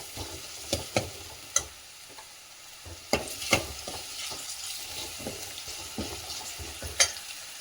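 Onion and curry leaves sauté in a hot pan, a steady close sizzle broken by sharp scrapes and clinks of a spoon stirring against the metal, with no voices.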